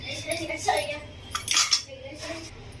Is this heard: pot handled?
yes